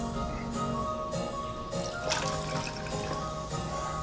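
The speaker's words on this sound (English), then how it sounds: "Water goes from glass to glass" Water poured from one glass into another, a steady close trickle and splash running the whole time with a brief brighter splash midway.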